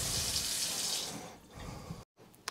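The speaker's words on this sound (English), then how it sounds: "So we want to go ahead and run some water down on it." Tap water pours from a Moen Essie pull-down faucet into a Kraus Pro workstation kitchen sink and down the garbage disposal drain, a loud close rush that fades, cuts off briefly, then resumes faintly with a small clunk.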